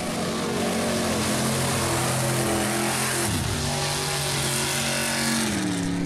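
Two Ford mud trucks race side by side at Stateline Speedway, their engines in a loud continuous roar with shifting pitch and a brief dip partway through as they power across the track.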